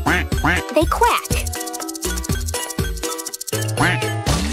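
Cartoon duck quacks in a children's animated sing-along about animal sounds, short bright calls repeating in a bouncy rhythm over tinkling music and a sung voice.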